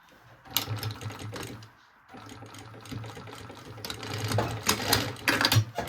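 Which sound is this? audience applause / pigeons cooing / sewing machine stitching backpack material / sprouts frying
sewing machine stitching backpack material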